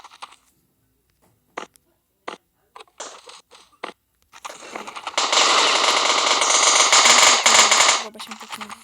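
A gun bought in CS portable, a mobile shooter, fires a few single shots and then a sustained loud automatic burst lasting several seconds.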